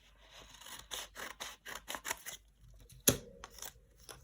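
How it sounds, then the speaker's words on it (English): Scissors snip through an envelope flap cut from a scenic book page, a run of short, close paper-cutting strokes in quick rhythm followed by a sharper clack near the end, with no talk. "maybe I'll cut the flap"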